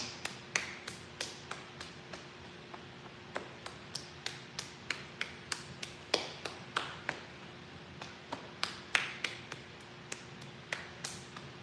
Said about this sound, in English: And then come across the chest and knock down the inside of the other arm.